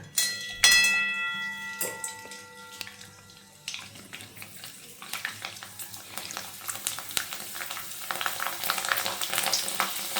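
Colourful papad, including ring, flower and bhindi shapes, frying in hot oil, with dense crackling and sizzling that swells over several seconds after a few clinks and knocks at the start, and no talk.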